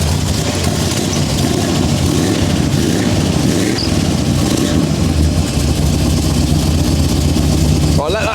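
A Lingenfelter-modified Corvette C4 muscle car idles loudly and close, its engine holding a steady rumbling tick-over with a continuous low throb throughout.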